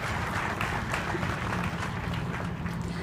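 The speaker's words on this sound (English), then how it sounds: "I'd like to give everybody a round of applause for the hard work of our team" At an executive grand-opening event for a Las Vegas chocolate store, a crowd gives a round of applause for the team, a soft, steady patter of many hands clapping at a fair distance.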